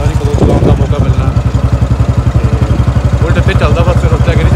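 A Royal Enfield Bullet motorcycle engine runs close by, a loud, even low thump repeating rapidly in a steady beat, with some clatter on top and no voices.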